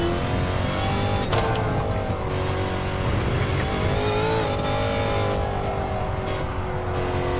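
A Dodge Challenger SRT Demon accelerates hard on a race track, its engine roaring loud and close with rising and shifting revs throughout and a brief tire squeal.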